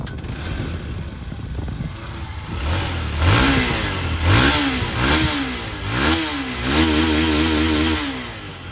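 Galaxy NA180 motorcycle engine started, then revved repeatedly, with several rising and falling throttle bursts over an idling rumble, loud and close, no talking.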